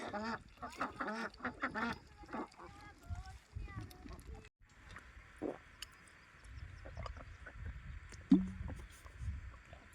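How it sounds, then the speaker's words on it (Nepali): Ducks quack in short nasal bursts, a few calls close by, mixed with people talking and outdoor background noise. "हाँसका जोडी"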